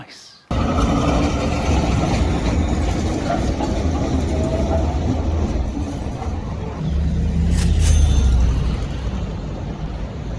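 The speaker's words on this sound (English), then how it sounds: "there goes the first G-Wagon AMG of the day, and the second one right behind it" Two Mercedes G-Wagon AMGs pass one after the other on a Zurich street, a loud, steady motor roar over traffic that swells into a closer, heavier pass near the end.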